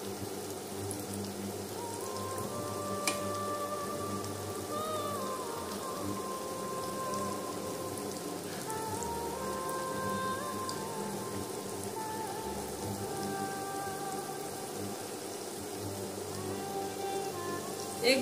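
Vegetable chops sizzle in hot oil, a steady fine crackling hiss that runs evenly throughout with no talking.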